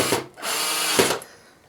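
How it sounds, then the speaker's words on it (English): A power drill drives 1-inch flat-head Phillips wood screws into wooden roadbed on a model railway helix, two short bursts of loud whirring separated by a brief pause, close up, with no talk. "And now we'll go ahead and insert the wood screws that I use."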